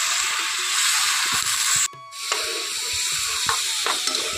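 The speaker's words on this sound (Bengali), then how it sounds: "অল্প একটু জল দিয়ে সমস্ত উপকরণ খুব ভালো করে কষিয়ে নেব।" Turmeric, cumin and coriander powder being stir-fried with a splash of water hiss and sizzle loudly up close, with stirring scrapes, a brief drop to near silence midway, then a renewed sizzle.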